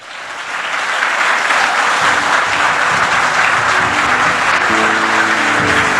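Church congregation breaks into loud sustained applause during a sermon, a dense wash of many clapping hands swelling up within the first second and holding steady, with faint voices and a low tone underneath.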